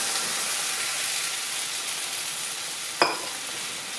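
Pork sizzling in a pan for a pork, apple and cider pie, a steady close frying hiss, then a sudden burst of sizzle and splutter as stock and cider pour in near the end.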